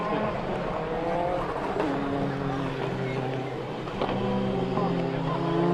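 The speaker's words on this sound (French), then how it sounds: "Allez, Philippe Tolmer à l'image, justement avec la 205" A Peugeot 205 rally car engine revs and drones continuously at close range, its pitch rising and shifting through gears, with talk over it.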